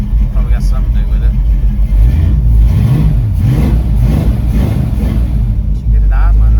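A car engine that was being readied for nitrous idles with a loud, close rumble that rises and falls slightly over several seconds, with a person talking over it.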